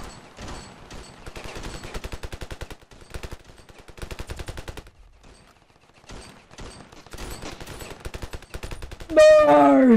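Rapid automatic gunfire rattles in long bursts during a battle in the video game Ravenfield, with short pauses between volleys and a final louder burst at the end.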